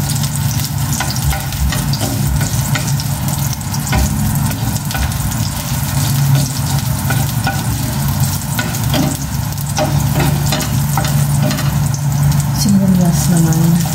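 Oil sizzles steadily in a pan as oyster sauce is added to fried tilapia, a continuous close frying hiss with stirring sounds and a steady low hum underneath.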